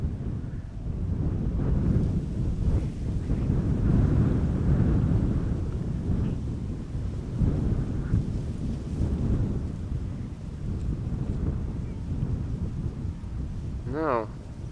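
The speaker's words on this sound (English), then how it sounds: "is the wind picking up or is this just a momentary breeze?" Wind gusts at Schiphol airport buffet the microphone in a steady low rumble that swells and eases over several seconds, with a short whistling chirp near the end.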